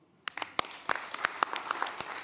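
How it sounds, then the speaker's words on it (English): Scattered applause rises at a business debate, a small number of distinct, sharp claps at an uneven pace, fairly quiet and close, with a spoken voice faintly present. "And big round of applause to the co-founder of Inspirepreneur"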